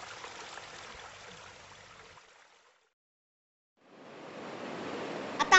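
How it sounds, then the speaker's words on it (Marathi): A small freshwater stream flows with a steady rushing hiss that drops out completely for about a second midway, then returns just as strongly, with no voices. "आता हा ओढा छोटा आहे"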